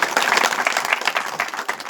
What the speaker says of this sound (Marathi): त्याबद्दल तिचं आपण जोरदार टाळ्या वाजून स्वागत करूया